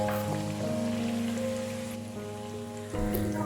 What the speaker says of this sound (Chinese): 加入切好的马铃薯块，用中火将马铃薯彻底的炸熟。